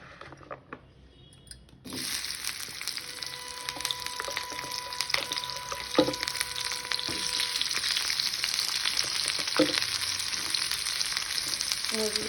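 Onions tossed into a hot pan for mutton kulambu: a short quiet moment, then a sudden loud sizzle that settles into steady frying with faint clinks of stirring.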